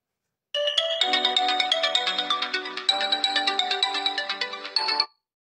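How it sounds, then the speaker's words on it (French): A mobile phone ringtone plays on its own: a bright, loud electronic melody of rapid repeated chiming notes lasting about four and a half seconds, then stopping abruptly. "il y a toujours le téléphone et j'ai encore oublié de le mettre en silencieux comme d'hab"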